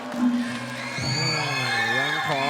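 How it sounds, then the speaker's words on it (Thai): Fans at a Muay Thai boxing match cheer and whoop in a sustained, rising crowd roar that swells toward the end. "เรียกเสียงเชียร์จากแฟนมวยอยู่ครับสำหรับโบโลโน"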